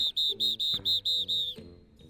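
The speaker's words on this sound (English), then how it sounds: "The PE teacher blows his whistle loudly, getting the chattering gaggle of kids to quiet down and focus up" A PE teacher in the game DATE Z blows his whistle in a run of about seven short, loud, shrill blasts in quick succession, with a faint low murmur beneath.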